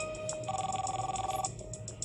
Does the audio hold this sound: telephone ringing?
yes